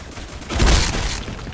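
Gunfire from the online shooter BlackSquad: a dense burst of shots that swells to a loud, booming peak midway, then tails off into a sustained rattle.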